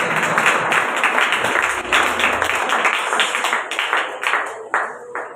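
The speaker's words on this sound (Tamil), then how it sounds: "கைத்தட்டி நல்ல ஆண்டவரை தோற்றம் பண்ணுவாங்க" A church congregation claps hands in praise, steady dense applause-like clapping filling the room, fairly loud and continuous with slight swells throughout.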